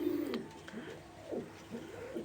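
Ground roller pigeons in a loft give repeated low, rolling coos, close and steady, over faint background hiss with an occasional sharp click.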